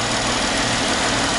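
Jeep 3.6-liter Pentastar V6 engine running at idle, a steady low hum with an even rumble, heard up close and alone.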